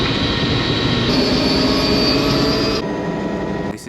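A loud, steady helicopter engine whine and roar with a high-pitched turbine tone, continuous and close, fading slightly at the end, at an airport general aviation terminal.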